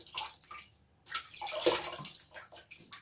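Water is scooped and poured by hand to rinse a face, with splashing bursts and trickles in a short, uneven sequence, close and moderately loud.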